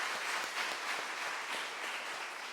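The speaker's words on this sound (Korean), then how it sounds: "우리 교회 학교 친구들 위해서 박수 한번 합니다." A church congregation applauds the church school children, a steady wash of many hands clapping at once, fairly soft and sustained without a break.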